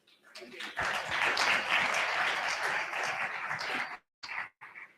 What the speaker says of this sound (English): A warm round of applause for Madam Dlamini Zuma and our representative from Spain